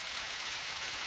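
Rain sound effect generated by Meta AudioBox AI: a steady, dense hiss of falling rain, brief and even throughout, with no voices.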